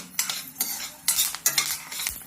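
Dry crackling and sizzling of horse gram lentils dry-roasting in a pan, with bursts of scraping as they are stirred, coming in uneven waves close by.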